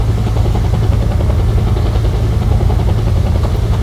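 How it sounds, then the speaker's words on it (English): A steady, loud low-pitched helicopter rotor drone with engine rumble fills the whole stretch, continuous and unbroken, in the video game Code of Honor: The French Foreign Legion. "I can hear a helicopter."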